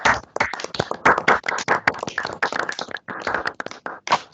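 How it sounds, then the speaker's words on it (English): Scattered clapping from several unmuted participants in an online university conference, uneven bursts of hand claps close to the microphones, thinning and pausing before a final few claps. "Let's unmute and give some applause to Matthew."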